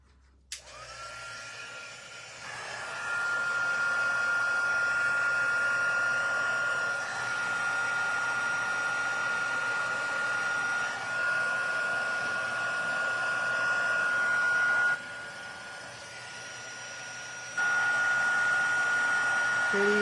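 An embossing heat tool blows hot air over handmade embossed cards, switching on with a click into a steady whooshing fan roar with a tonal whine that dips and surges as it is moved, close and continuous.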